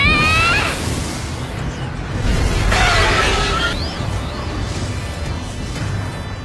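An anime-style fire dragon explosion effect bursts loudly with crashing, whooshing blasts and bright crackling debris, rising and falling in a few heavy surges through a battle scene.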